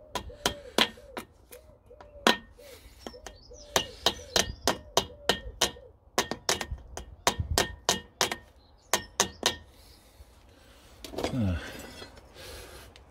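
Repeated sharp metallic taps of pliers striking a split pin on an old 750kg trailer's brake, coming in irregular bursts of quick knocks with brief pauses, close and distinct, followed by a rustle of handling near the end.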